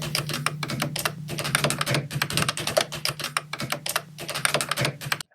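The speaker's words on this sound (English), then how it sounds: "the Pi 500 Plus features a Gateron blue switch, offering long key travel, sharp tactile bump, and the ever so pleasing click with each press of the keypad" Rapid mechanical key clicks from a Raspberry Pi 500 Plus keyboard with Gateron blue switches, a dense run of sharp, close taps and presses over a low steady hum, with no voices.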